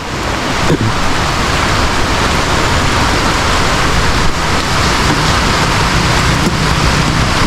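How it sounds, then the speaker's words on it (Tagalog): Heavy early-morning rain pours down steadily in Bicol, a dense, loud, unbroken hiss with no talking. "Lakas ng ulan."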